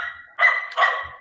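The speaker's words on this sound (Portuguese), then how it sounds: "O cachorrinho aqui gritando," A neighbour's small dog barks twice in quick succession, fairly close and sharp, with no voices over it.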